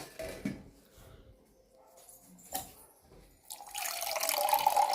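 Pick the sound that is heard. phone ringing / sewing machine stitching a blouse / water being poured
water being poured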